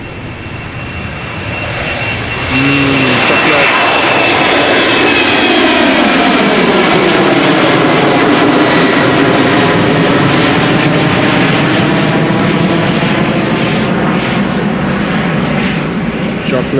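A 16-year-old KLM jet climbs out from Amsterdam Schiphol, very loud and up close, its engine roar surging in and sweeping in pitch as it passes, with a voice talking faintly beneath.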